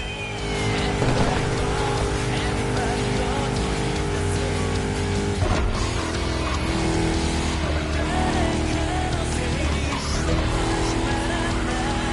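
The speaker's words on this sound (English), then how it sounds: "The Chrysler SRT8 is meaner than the regular 300." A Chrysler 300 SRT8 with a V8 Hemi races in The Crew Motorfest, its engine droning loud and steady throughout with tire squeal and skidding noise layered over the continuous roar.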